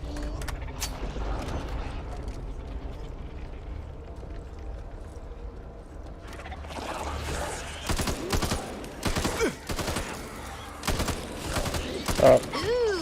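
Gunfire in the video game Back 4 Blood, with bursts of rapid shots and mechanical clatter that grow busier and louder in the second half over a low game background.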